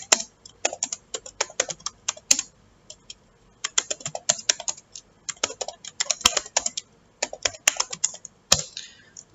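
Code being typed on a computer keyboard: steady bursts of crisp, close key clicks in quick runs separated by short pauses, with no talking over it.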